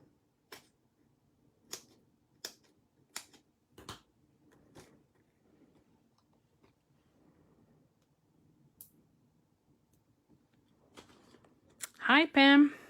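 Card stock being cut for a handmade birthday card: a string of sharp, separate snips and clicks at uneven gaps in a quiet room, followed by a short burst of voice near the end.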